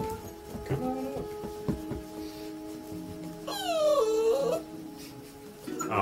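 A small dog gives a few soft whimpers and then a rising, wavering whine near the middle, faint and close against a quiet indoor hum, with no talk over it.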